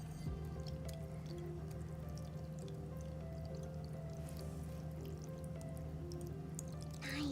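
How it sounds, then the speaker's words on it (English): Water is poured slowly through a sponge and a paper towel filter, giving a steady quiet trickle with soft drips and a faint hum underneath, close by and without speech. "pour the water through my sponge and through the paper towel"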